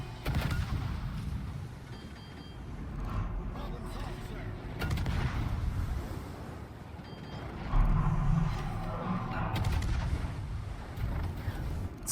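Warship guns booming during a naval battle in World of Warships, with heavy rumbling salvos landing every few seconds over a constant low roar of the sea and the ship.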